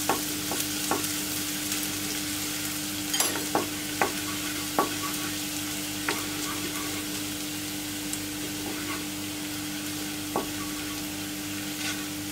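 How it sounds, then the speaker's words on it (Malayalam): Chopped garlic dropped into hot cooking oil crackles with a continuous sizzle, while spatula stirs and scrapes against the pan come through at irregular intervals. "കുക്കിംഗ് ഓയിൽ നന്നായിട്ട് ചൂട് ആയിട്ടുണ്ട് ഇനി നമുക്ക് നമ്മൾ നേരത്തെ ചോപ്പ് ചെയ്ത് വെച്ചിരിക്കുന്ന ഗാർലിക് ആഡ് ചെയ്യാം"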